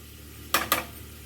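Fried garlic is mixed into a lentil curry in a pan, marked by two quick metallic clinks of a utensil against the cookware over a quiet kitchen background.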